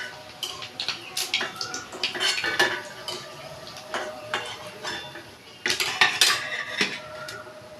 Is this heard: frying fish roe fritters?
yes